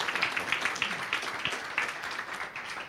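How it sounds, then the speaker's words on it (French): An audience at an evening public meeting claps for the mayor, a short, moderately loud burst of applause with scattered individual claps that thins out toward the end, with no talk over it. "Oui, vous pouvez l'applaudir,"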